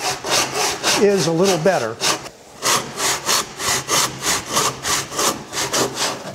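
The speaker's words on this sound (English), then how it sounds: "take this little saw and again, this is where the crosscut saw" A small crosscut backsaw cuts through wood in quick, rhythmic back-and-forth strokes, close and clear, with a short spoken remark near the start before the sawing resumes.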